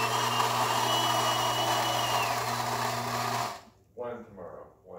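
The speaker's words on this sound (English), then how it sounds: "the machine had no troubles grinding with the magnet sensor and everything" Gaggia Anima Prestige espresso machine grinds coffee with a steady, close mechanical whir and hum for several seconds, then stops; a voice speaks briefly afterward.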